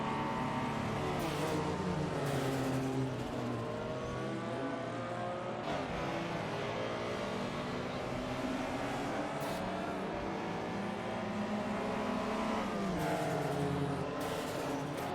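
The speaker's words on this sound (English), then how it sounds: "Let's get those AI race cars revved up and see what they can do." AI-driven sportscars in a racing video game at Road Atlanta rev and roar continuously, engines rising and falling in pitch with several cars passing close, sustained and loud throughout with no talk.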